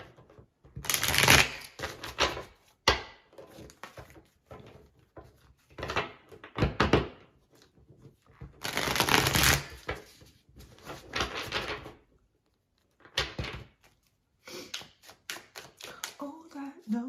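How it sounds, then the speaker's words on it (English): A Fountain Tarot deck being shuffled and cards drawn by hand, heard as repeated bursts of riffling and soft slaps separated by quiet gaps, close to the mic. "I want to pull out a tarot card for each one of these from the Fountain Tarot"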